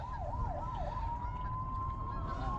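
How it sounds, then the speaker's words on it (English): A distant emergency siren wails in a few quick rising-and-falling cycles, then holds a steady tone over a constant rushing background near a low river. "Hear those sirens?"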